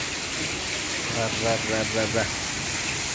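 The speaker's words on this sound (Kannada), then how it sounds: "ಇದು ಮಳೆ. ನೋಡಿ ಹೇಗೆ ಹೋಗ್ತಾ ಇದೆ" Heavy rain in Bengaluru hisses steadily and evenly throughout, while someone speaks briefly over the downpour in the middle.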